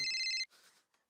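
A telephone rings in a TV sitcom scene, one loud electronic bell burst that cuts off, followed by faint rustling and low background noise.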